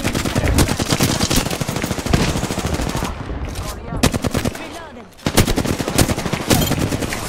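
Rapid automatic gunfire in the Apex Legends video game, loud close bursts of machine-gun shots with a brief lull in the middle before firing resumes, a voice talking faintly under it.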